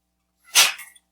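A single sharp sneeze bursts out loud and close, a quick explosive blast of breath that trails off within half a second, alone in an otherwise quiet room.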